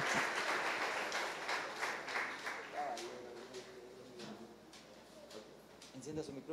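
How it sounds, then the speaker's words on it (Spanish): An audience applauds as Pedro Quintero is welcomed at a Father's Day interview event, the clapping loudest at the start and fading over several seconds while a host's voice talks over it. "Un aplauso para él."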